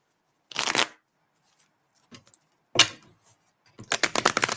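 A deck of tarot cards shuffled up close in three separate bursts of riffling, crisp flutter with quiet pauses between them and no speech.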